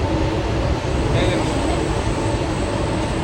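Steady rumbling ambience inside a moving Mumbai local train bound for Churchgate, a continuous broadband roar of wheels and carriage noise with no breaks, loud and constant throughout.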